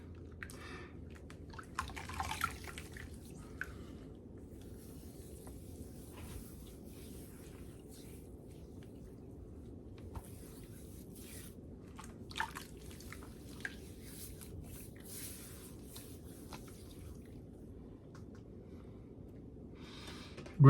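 Soapy water dripping and squishing during a straight razor shave, soft wet ticks and small splats scattered irregularly over a quiet, close background.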